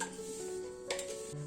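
Cookie crumbs are poured into a bowl while making a no-bake ice cream cake, a quiet soft rustling trickle with a faint clink of dishware, close and alone without talk.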